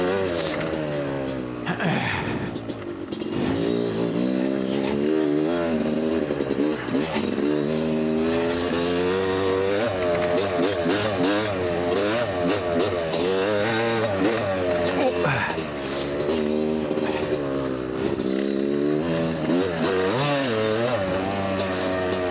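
Yamaha YZ dirt bike engine revving continuously while riding at a speed run, loud and close with rising and falling pitch as the throttle opens and closes, with brief voices underneath.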